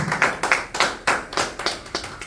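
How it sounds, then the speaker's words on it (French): A church congregation in Sherbrooke claps in a rhythm during worship: a regular run of sharp, close group claps at an even tempo, with no talk over them. "Ça mérite des acclamations pour notre Seigneur."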